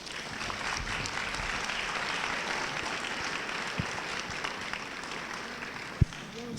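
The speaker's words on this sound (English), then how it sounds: "Please give them a round of applause." Applause from the audience at a 2016 St. Louis Circuit Attorney debate, fairly quiet and distant steady clapping with a few sharper knocks and handling bumps.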